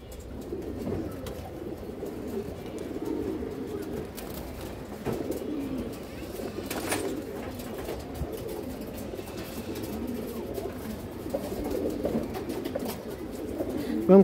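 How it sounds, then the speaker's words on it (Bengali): Pigeons with black tails coo softly and repeatedly in a steady low murmur, with faint background noise. "অনেক সুন্দর কবুতর"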